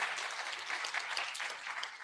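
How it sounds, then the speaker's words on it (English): Audience applause at an International Women's Day celebration at the Kenya School of Government, a steady, dense clapping from a large crowd that carries on evenly for the full two seconds with no talk over it. "Can we clap for those women?"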